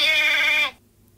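A single mountain goat bleat, close and loud, a sharp wavering cry lasting under a second before cutting off to silence.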